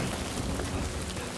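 Timefall rain in the Death Stranding 2 video game, a steady, dense hiss of falling rain pattering close by on surfaces, continuous and even with no voices over it.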